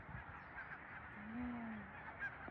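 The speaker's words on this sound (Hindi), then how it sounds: "ये देखो पक्षी उड़ रहे हैं पानी के ऊपर, कितने सारे।" A flock of geese honks repeatedly while flying over water, the calls fairly faint and distant against a steady outdoor background, with one longer honk standing out midway.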